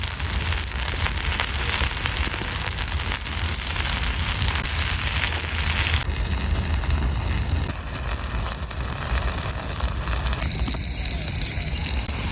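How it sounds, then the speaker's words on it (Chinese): Fish fillets sizzle and crackle in a small black pot on a lightweight chimney wood stove, a dense, loud, continuous hiss with fine popping that runs unbroken throughout. "鱼肉下锅，立即就噼里啪啦这响"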